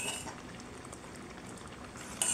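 Red poha payasam with cashews and raisins boils in a pot, a soft, continuous bubbling and popping, faint and close, with a brief louder burst near the end.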